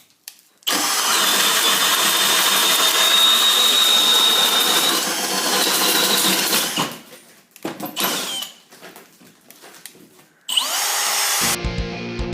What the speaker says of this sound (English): If not, we'll drop it back to low and plough through the timber.